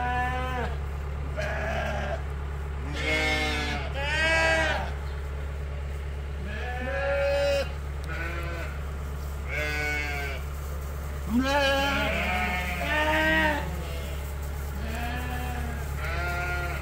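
Lambs around three months old and ewes bleating repeatedly in a pen, overlapping calls near and loud with steady low farm hum beneath.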